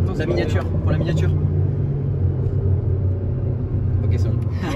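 Engine of a 2022 Alpine A110S sports car, a deep, steady low rumble running throughout, with someone talking over it near the start and end.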